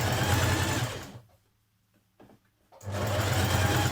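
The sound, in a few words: sewing machine top-stitching jersey dress band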